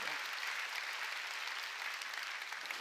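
A church congregation applauds during a Sunday worship service, a soft, distant, even patter of many hands that carries on without a break.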